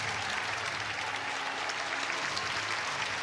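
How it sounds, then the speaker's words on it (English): A baseball crowd gives a steady, sustained ovation to a pitcher leaving the game in a college matchup between Ole Miss and Nebraska, a broad wash of applause and cheering with no voices standing out. "you assume he's going to get a massive ovation"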